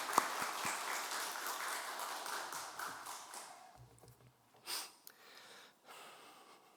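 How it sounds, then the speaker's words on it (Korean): A church congregation at an anniversary Sunday service gives blessing applause to two young singers, a burst of claps that thins out and fades within a few seconds into quiet room noise and faint shuffling. "우리 축복의 박수 한번 부탁하겠습니다"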